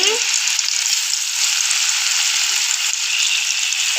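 Chicken pieces frying in hot oil give off a loud, close, unbroken hissing sizzle, bright and steady from start to finish with barely any variation.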